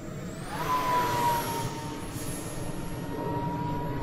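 A small model airplane motor whines at a high pitch, rising sharply then holding a steady buzzing tone as it flies past, over outdoor background noise.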